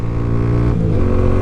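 A Hanway Scrambler 125 motorcycle engine revs and accelerates hard, a steady loud buzzing drone that shifts pitch partway through, with continuous wind and road roar and no talking.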